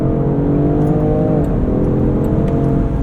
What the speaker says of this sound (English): Quick shifts there from the 8-speed auto